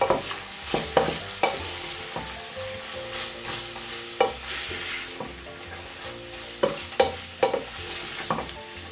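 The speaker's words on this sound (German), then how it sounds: "Jetzt gebe ich einen Esslöffel Paprikamark hinein und brate das dann auch richtig an." Paprika paste and chickpeas frying in a pan, a steady close sizzle broken by sharp scrapes and knocks of stirring at irregular intervals, with no voices.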